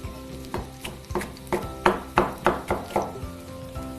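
Chopped carrot dropped into hot oil in a pan, a run of about ten crackling sizzles and stirring scrapes in an even rhythm, close and fairly loud, with no talking.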